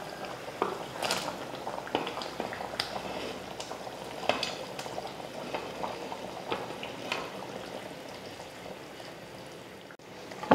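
Fish curry boiling in a pot gives a faint, continuous bubbling simmer with scattered soft pops and small clicks throughout.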